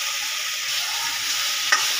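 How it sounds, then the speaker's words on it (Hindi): Ridge gourd fries in spice masala, producing a steady, even sizzle throughout with one short clink near the end. "अब हम इसको थोड़ी देर मसाले में ही भूनेंगे।"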